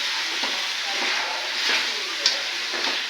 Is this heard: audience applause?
no